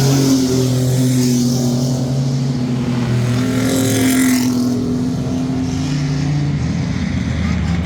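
Mini trucks race at Midvale Speedway in a feature event, engines droning loud and steady as the pack circles the track, with a rising rev swell midway and a race announcer's voice calling over the roar.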